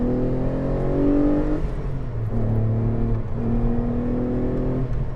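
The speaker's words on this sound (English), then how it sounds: "That engine just sounds so good." A Renault Clio V6 Phase 2 engine accelerating from inside the car, loud rising revs through a gear, a brief dip at the shift, then climbing again steadily.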